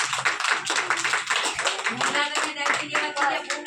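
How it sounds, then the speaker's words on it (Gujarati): Young children clapping their hands together in a group, a quick scattered run of claps lasting a few seconds with voices mixed in among them. "તાળી પાડો બધાય"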